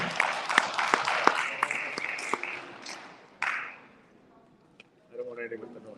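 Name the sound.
audience applause for council candidate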